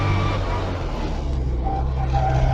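Manual car fitted with adapted clutch controls accelerating slightly downhill while shifting from second to third gear, a close, steady engine drone from inside the cabin that swells slightly toward the end.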